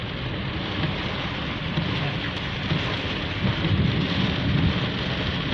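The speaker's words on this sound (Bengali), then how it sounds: "আপনারা একটা জিনিস লক্ষ্য করছেন যে 10 মিনিট প্রবল বর্ষণে রাস্তায় কিন্তু পানি উঠে গেছে।" Heavy rainstorm drumming on a car roof and windows, heard from inside the vehicle on a flooded road in Jeddah, a dense steady roar with low rumbling swells of thunder building toward the end.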